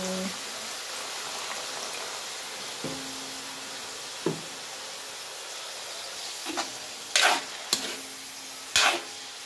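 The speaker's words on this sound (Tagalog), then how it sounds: "Maglagay na ako ng tuyo guys" Dried fish (tuyo) frying in hot oil for pansit bihon, a steady broad sizzle with a few sharp clinks and scrapes of stirring near the end, a brief voice at the start.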